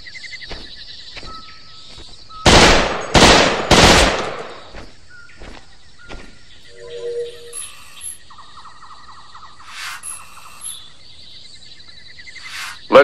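Enemy gunfire in the Raven Squad video game: three loud, broadband bursts close together near the start, then scattered fainter shots over a steady electronic hum and chirping ambience, with a brief voice.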